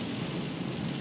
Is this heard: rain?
yes